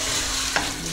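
Rice gently toasts in a pan for a Milanese-style rice, a soft, steady sizzle close by with a brief scrape of stirring midway.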